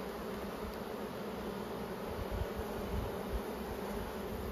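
Honey bees buzz inside an opened, nearly fully sealed hive in Australia during spring hive management. The swarm drones as a dense, steady hum close by, with no voices over it.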